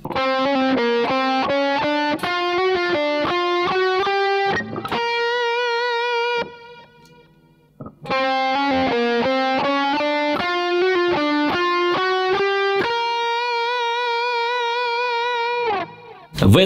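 Electric guitar with an effects-coloured tone plays a rapid phrase of quick repeated notes, pauses on a sustained note, then repeats the run, loud and close with no talk.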